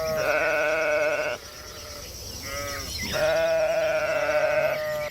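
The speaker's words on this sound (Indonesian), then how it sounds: "Wih, keluarlah seekor domba." A sheep bleats loudly and up close in two long, wavering calls separated by a brief quieter gap, with no talk over it.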